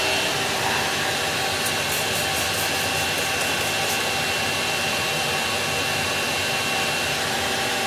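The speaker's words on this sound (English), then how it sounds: "Okay, so I have the vacuum running." A running vacuum source for an intake leak test on a 1965 Ford Falcon with EFI makes a loud, steady broadband whir, with brief hissing bursts partway through and no talk.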